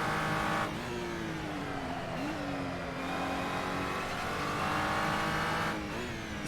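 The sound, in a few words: race car engine in Assetto Corsa video game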